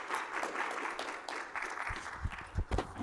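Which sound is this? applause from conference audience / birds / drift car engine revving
applause from conference audience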